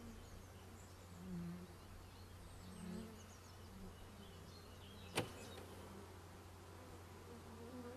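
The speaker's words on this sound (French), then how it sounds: "quand une partie des abeilles s'envole" Honey bees lift off from a swarm box, a faint low buzzing that swells and fades in soft waves, with one sharp click midway.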